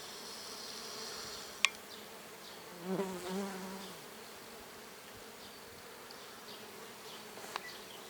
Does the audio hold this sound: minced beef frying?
no